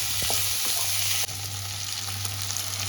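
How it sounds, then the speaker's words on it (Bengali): Mutton fat sizzling in a pan while being fried crisp for mutton ghugni: a loud, steady hiss of frying fat with a faint stirring scrape early on, and no talk. "এখানে চর্বিগুলো ভাজা ভাজা কিন্তু হয়ে গেছে"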